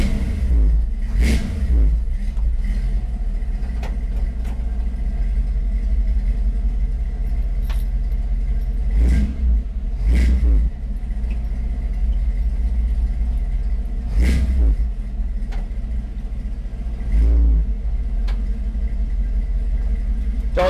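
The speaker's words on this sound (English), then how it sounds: "It even does the cool thing when you rev it up." A car engine idles with a low, steady rumble and is revved several times, each rev a short rising roar that falls back to idle. The sound is close and loud inside a garage.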